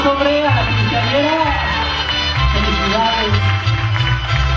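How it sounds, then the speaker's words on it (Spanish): Audience at a quinceañera celebration cheers and applauds for the birthday girl, a loud close crowd roar with whoops and shouts mixed in, while voices ring out above it. "Que se escuche ese aplauso, hombre, a la quinceañera."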